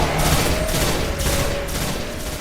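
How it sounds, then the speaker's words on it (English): Stranger's Rifle fire in Destiny, a dense, continuous burst of rapid shots with sustained loud crackling and no pauses across the whole stretch. "This is one of the things that drew me to the Stranger's Rifle in the first place, since it was just an interesting sound compared to the other weapons."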